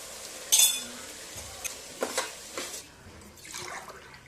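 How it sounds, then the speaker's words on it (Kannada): A spoon stirring pulao in a cooking pot gives a few short, scraping clinks against the metal, spaced irregularly over a quiet kitchen background with no talking. "ಒಂದು 2 ನಿಮಿಷ ಹಾಗೆ ಕೈ ಆಡ್ತಾ ಮಿಶ್ರಣ ಮಾಡೋಣ"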